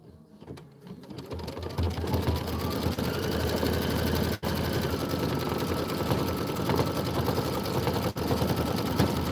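An embroidery machine stitches mitten tops and bottoms, starting up and then running with a steady, rapid mechanical whir and needle chatter, close and continuous with a couple of brief pauses.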